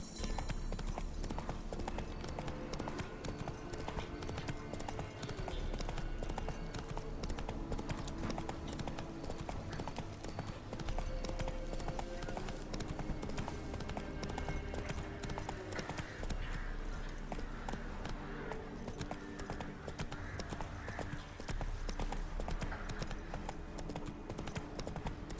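Roach, Geralt's horse in The Witcher 3, gallops steadily with rapid rhythmic hoof clip-clops under a dense, continuous game soundtrack, with an occasional whinny.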